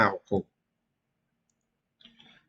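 Two quick computer mouse clicks while working in a spreadsheet program, crisp and close, followed by a brief soft rustle of further clicking after a silent pause.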